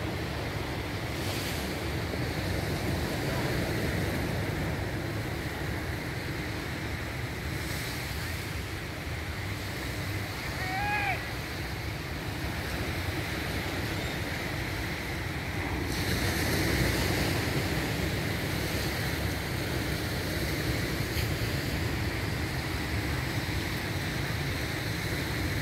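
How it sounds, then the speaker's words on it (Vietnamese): Sea waves wash steadily onto Nha Trang beach on a morning during Tet. The surf is continuous and fairly loud, with wind buffeting the microphone throughout and no voices. "Biển Nha Trang"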